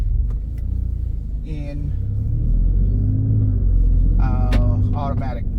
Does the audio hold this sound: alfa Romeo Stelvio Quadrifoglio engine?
yes